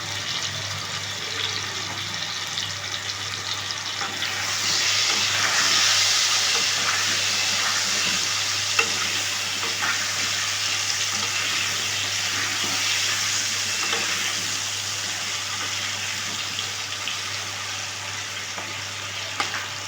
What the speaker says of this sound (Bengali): আলুটা একটু ভালো করে ভাজা হয়ে যায়